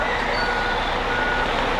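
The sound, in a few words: truck reversing with backup beeps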